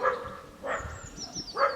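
Several dogs at a neighbouring house bark in repeated yaps, three clear barks at an even pace, heard from a moderate distance outdoors over a faint steady background.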